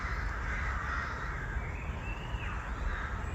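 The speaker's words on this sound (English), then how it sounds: "So let's just listen to the birds," Crows caw faintly in the distance amid a soft outdoor hush in a churchyard, their harsh calls drawn out and overlapping.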